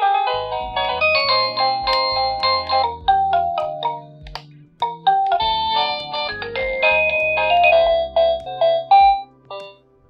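A wireless plug-in doorbell with a built-in night light plays one of its selectable ringtone tunes, a loud, bright electronic melody of quick chiming notes running for about ten seconds with a brief pause partway, no voices.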